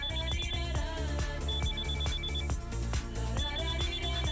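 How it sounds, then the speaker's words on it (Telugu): Telephone ringtone sounding repeatedly while a call connects, a bright electronic melody with repeating beeping phrases over a steady rhythmic backing, loud and close with no talking. "ముందు ఫోన్ కలుపు"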